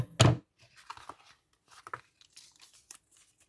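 Gummed kraft paper tape being cut by hand for a mini flipbook craft, one sharp tearing snip at the start followed by quieter, scattered crinkles and rustles of the paper, close and otherwise quiet.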